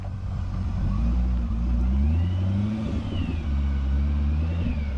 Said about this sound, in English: we'll get her up here on the dyno and we'll see what she does